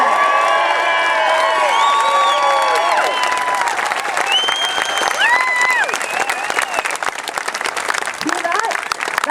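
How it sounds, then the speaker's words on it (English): A large crowd at an outdoor protest rally against the shark cull in Adelaide cheers, whoops and applauds loudly and continuously, with shouts and dense clapping throughout. "Let's have a massive cheer for everybody here today."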